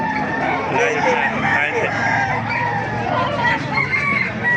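Roosters crow and chickens cluck at a busy chicken market, with people talking over the birds throughout.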